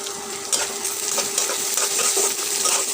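Cardamom, cinnamon and cloves frying in hot oil while being stirred, a steady close sizzle broken by repeated scraping and clinking strokes of the spoon against the pan, with no talking.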